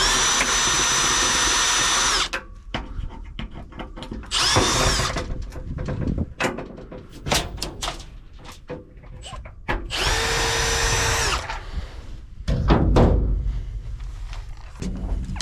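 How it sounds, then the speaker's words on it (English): A power drill backs big screws out of a scrap dryer panel, whining in four separate loud bursts with clunks and handling noise between them. "to remove these things, you just have to remove 1, 2, 3 screws on each piece"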